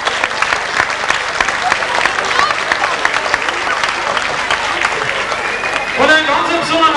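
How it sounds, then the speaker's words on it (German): Sustained audience applause at a 1992 Musikantenparade in Moos, a dense, loud clatter of many hands clapping for the music groups, with crowd noise and a few voices underneath. "Ein Applaus haben wir heute für unsere tollen Gruppen."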